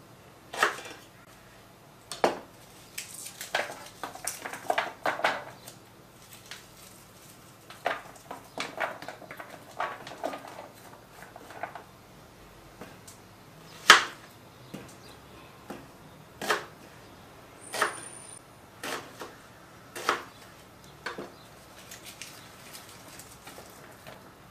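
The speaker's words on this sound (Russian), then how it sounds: "режем сюда лук" Onion being sliced with a knife on a board while preparing oven-roasted lamb loin, giving a series of sharp, separate chopping taps at an uneven rhythm, close and moderately loud, with no talk.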